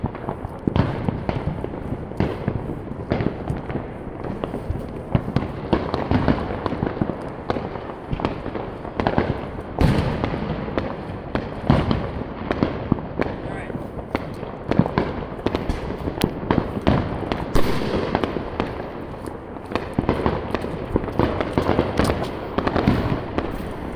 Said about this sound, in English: that's where the fireworks are gonna happen at